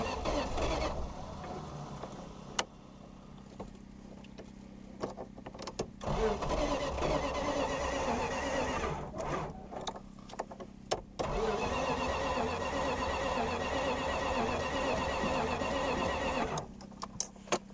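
A 1969 Plymouth Fury III engine cranks and turns over, a rough uneven running rumble in several long stretches broken by brief pauses, with a whining starter-like texture and no speech.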